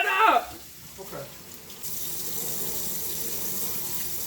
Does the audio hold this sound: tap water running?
yes